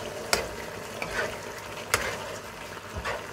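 Chicken liver and Chinese chives stir-fry in a hot pan for a spicy, teriyaki-style dish, with a steady sizzle broken by a few sharp spatula scrapes and knocks, close and fairly quiet.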